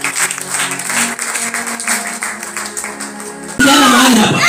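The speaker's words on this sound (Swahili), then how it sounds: "Yesu makofi." A church congregation claps together at a Sunday service, a lively patter of many hands that breaks off suddenly into a loud sustained tone with a wavering pitch.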